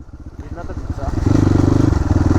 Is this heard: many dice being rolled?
no